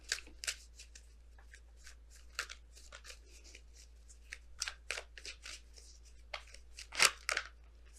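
Oracle cards from a tarot deck shuffled and pulled by hand, giving a run of crisp papery riffles and flicks, loudest in a sharp burst near the end, close up with no talk.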